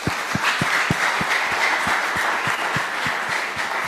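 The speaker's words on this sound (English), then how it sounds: "Let's clap for him, please." Steady applause from the audience at a boys' seminar, a dense wash of clapping with a regular heavy beat running through it, sustained and fairly close for the whole stretch.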